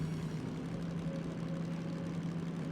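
Locomotive engine in the train game Derail Valley running at high RPM with a heavy load, a steady low droning hum that stays constant throughout, moderately loud, with no talking.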